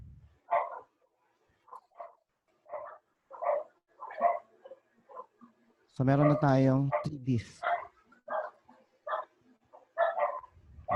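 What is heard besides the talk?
dog barking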